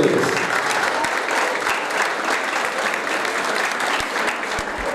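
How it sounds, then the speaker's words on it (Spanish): Audience applause at an awards ceremony honouring outstanding athletes, a continuous, fairly loud burst of clapping that holds steady from start to finish. "Nos despedimos con un aplauso."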